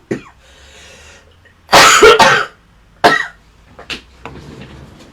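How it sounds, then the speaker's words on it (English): A woman coughs in several harsh, close bursts: a short one, then a strong double cough, followed by two smaller coughs with a bit of throat clearing, in an otherwise quiet room. "I can't stop the cough"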